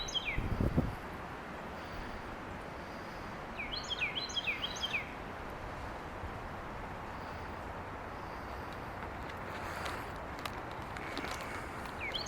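A bird outdoors in woodland near picnic tables sings one brief burst of quick chirps, faint against a steady outdoor background, with a soft knock at the start.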